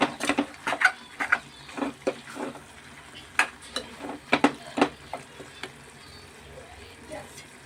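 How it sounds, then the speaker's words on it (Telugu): A spoon stirs salt and chili powder through a gongura mutton curry in a pot, giving a run of close scraping and clacking strokes with light sizzling underneath and bits of talk in between. "కొంచెం కారం వేసుకుని కలుపుకుందాం"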